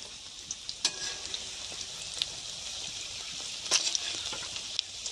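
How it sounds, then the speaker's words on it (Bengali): Eggs fry in a hot pan with a steady close sizzle, punctuated by small pops and crackles of spitting oil. "ডিমটা ভাজা ভাজা হয়ে এসছে"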